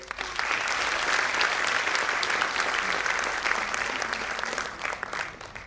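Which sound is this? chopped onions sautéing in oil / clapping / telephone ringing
clapping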